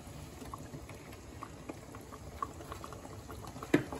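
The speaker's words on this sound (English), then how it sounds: "Let that keep cooking down. Get that flavor in there." A pot of cioppino tomato sauce with garlic simmers quietly, giving faint, steady bubbling and soft popping and a brief clink near the end.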